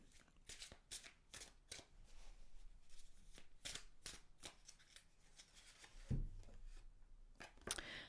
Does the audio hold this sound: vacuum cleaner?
no